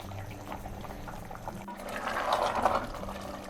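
Spinach and mutton bubbling in a pot for palak gosht, a soft, steady watery simmer with a brief bump midway and gentle gurgling swelling slightly toward the end, with no talk.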